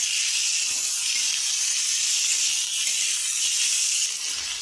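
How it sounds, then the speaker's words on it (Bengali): Masala of ginger garlic paste, chopped onion and tomato frying in a pan for a prawn and potato curry: a steady, even sizzling hiss, close and constant with no voices. "পেঁয়াজ কুচানো দিয়ে দেবো এখানে টমেটো কুচিগুলো দিয়ে দেবো দিয়ে ভালো করে মশলাটাকে কষিয়ে নেব"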